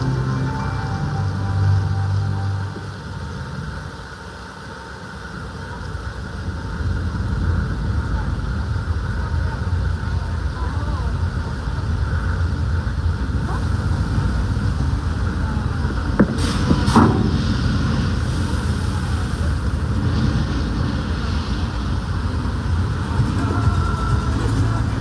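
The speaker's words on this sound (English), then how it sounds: "You just survived the flash flood weather effect here on the studio tour." Flash flood special effect on a studio backlot tour: a long, loud roar of rushing water and spray sustained throughout, with a few sharp clanks partway through and faint voices under the torrent.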